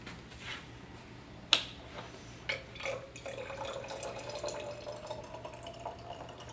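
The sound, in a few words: water being poured into oil in an experiment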